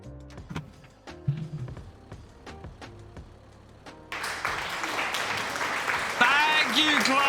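An applause sound effect plays during a Farming Simulator 22 stream, first as scattered separate claps over game sounds, then swelling into dense, louder clapping with cheering through the second half.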